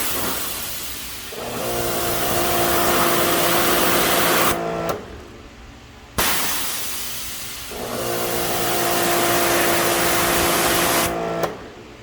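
Two long bursts of pressurized water spray hiss loudly while rinsing cleaner off a car wheel, each running several seconds with a pause between them.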